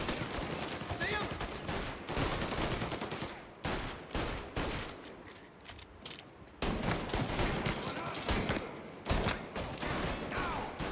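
Repeated bursts of pistol and Tommy gun gunfire in the video game Mafia Definitive Edition, loud and clustered in rapid volleys with short gaps between them, mixed with game noise and someone talking over parts of it.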